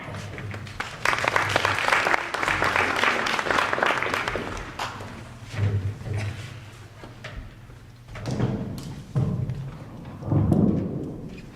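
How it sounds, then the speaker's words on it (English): A school audience at a Greek mythology night applauds in a broad, steady round for a student, then the clapping thins into scattered claps and bumps with a few later swells. "Please give a round of applause to this unsung hero"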